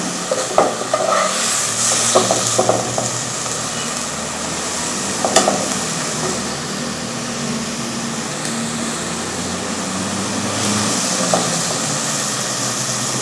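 Fenugreek leaves being sautéed with onion paste in a pan, a steady close sizzle with scraping stir strokes throughout, no talking.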